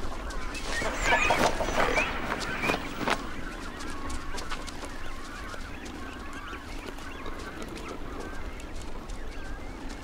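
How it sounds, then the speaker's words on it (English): Cormorants and reef herons at a crowded desert-coast nesting colony give harsh, honking calls that overlap in a dense chorus. The noise is loudest early, then settles into steady background squawking over wind. "Hungry cormorants and reef herons wait until chicks are being fed, then swoop in."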